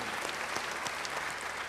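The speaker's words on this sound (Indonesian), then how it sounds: "Beri tepuk tangan yang baik bagi dia." A church congregation gives a short burst of dense applause, many hands clapping at once in a steady, busy wash that fills the moment without any voices.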